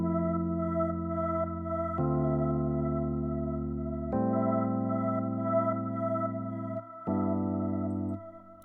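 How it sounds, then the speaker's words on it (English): Angel voice synth preset from Toxic Biohazard, played as sustained chords in an Afrobeat production, changing chord roughly every two seconds with a short gap near the end, steady and alone. "So that sound is from Toxic Biohazard, like I said earlier, and it is the angel voice under the parts."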